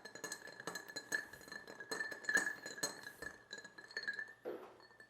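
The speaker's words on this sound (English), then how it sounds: "We're going to stir this up. And we're going to give it about 30 or 40 spins around that glass." Ice clinks and rattles against a mixing glass as a cocktail is stirred with a bar spoon, a rapid run of bright, close glassy chinks repeating steadily without talk.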